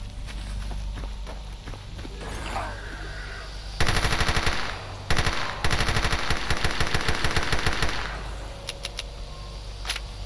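Gunfire from a weapon in S.T.A.L.K.E.R. Anomaly: loud, close bursts of rapid automatic fire interrupted by short pauses, followed by scattered single shots, with footsteps and ambient game noise beneath.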